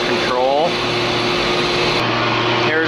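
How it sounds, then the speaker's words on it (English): Desiccant air dryer in a steam turbine plant, a loud, steady mechanical whir and hiss with a constant tonal hum and a brief burst of air, while someone talks over it. "Right here, these are a desiccant air dryer"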